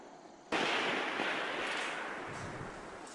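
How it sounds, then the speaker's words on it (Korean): A sniper rifle shot rings out in darkness during Korean special forces training: one sudden loud blast followed by a long, sustained roaring echo that slowly fades. "어둠을 뚫고 울려 퍼진 총성."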